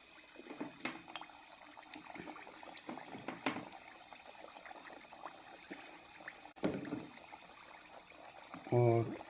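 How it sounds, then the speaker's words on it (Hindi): Sweet tikki goes into hot oil and fries with a soft, steady sizzle and bubbling, fairly faint, under a voice. "और अब मैं इसको डाल रहा हूँ इसके अंदर फ्राई के लिए।"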